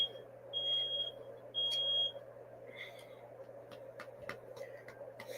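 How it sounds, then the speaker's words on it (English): A smoke-type fire alarm sounds at night after a burnt tortilla, giving two long, loud, piercing electronic beeps followed by a few faint clicks and rustles over a low background hum. "the fire alarm going off at this hour"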